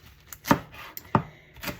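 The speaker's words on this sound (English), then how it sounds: "And so roughly chopping, I start off where I'm easy going with it, right?" A knife roughly chops food on a board in three distinct, close, sharp thuds spaced about half a second apart, with faint scraping between strokes and no talking.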